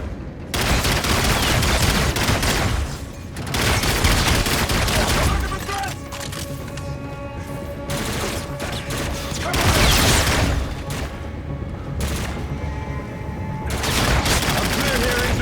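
Dense, sustained gunfire from the video game Call of Duty: Infinite Warfare, with bursts of automatic fire and heavy impacts swelling and easing in loud waves throughout, mixed with game effects and a faint voice.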